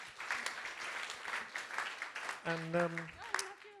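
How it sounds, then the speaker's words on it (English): Polite audience applause at a biodiversity genomics meeting, a steady wash of clapping from a seated crowd, moderately faint, with a voice briefly cutting in near the end. "so a round of applause."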